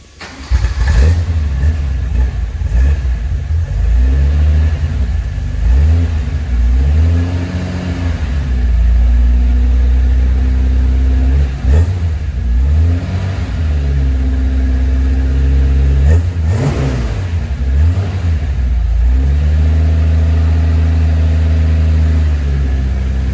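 A 1971 Holden LC GTR Torana engine cranks and fires up, then revs repeatedly, rising and falling in pitch, a loud, close, rumbling engine throughout.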